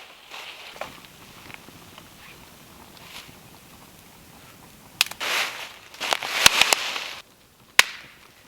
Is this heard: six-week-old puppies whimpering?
no